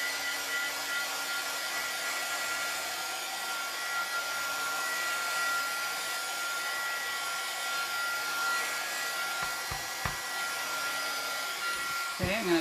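A hair dryer blows steadily and loudly as it dries a freshly stained wooden board, a constant whirring roar with a few brief knocks near the end.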